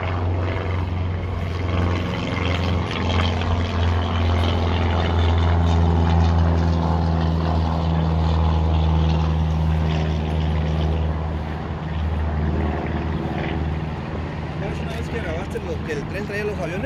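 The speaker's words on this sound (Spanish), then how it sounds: "Ahí va saliendo una avioneta." A small propeller airplane drones steadily overhead for the whole stretch, a continuous low engine hum under people talking nearby.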